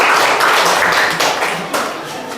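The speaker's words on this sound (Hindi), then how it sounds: "एक जोरदार ताली होना चाहिए" A classroom of students gives a burst of clapping for a classmate during a Hindi writing lesson, dense and steady hand claps filling the room at close range.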